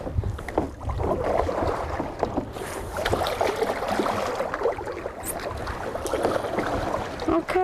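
Paddles dip and splash in the water as a small boat moves along a riverbank during a paddling lesson, with steady sloshing and wind noise on the microphone close by and continuing throughout.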